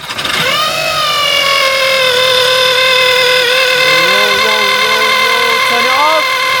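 A 2009 VW Eos 2-litre turbo engine, in for a cambelt replacement after a botched job, runs steadily up close with a strong tonal whine riding over the engine hum, holding nearly level with small pitch wobbles.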